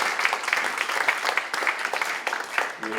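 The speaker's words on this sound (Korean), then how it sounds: "박수 한번 부탁드리겠습니다." An audience applauds at a church thanksgiving service launching a WEA general assembly in Seoul, giving a short, fairly loud burst of clapping with voices mixed in and a brief spoken sound near the end.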